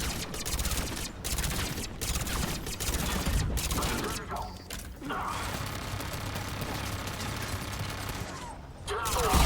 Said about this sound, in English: Fucking turret.